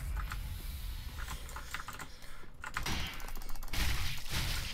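Rapid clattering keystrokes on a computer keyboard during a Dark Souls 3 session, close and steady with a few heavier thumps, no voices.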